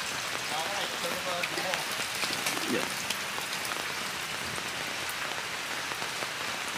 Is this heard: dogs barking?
no